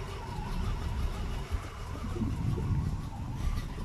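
A cold 1974 Impala engine idles steadily with a low, rough rumble, sounding slightly uneven as if about to stall, with no talking over it.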